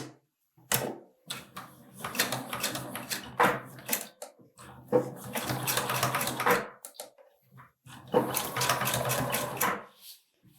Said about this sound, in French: je vais coudre en suivant la ligne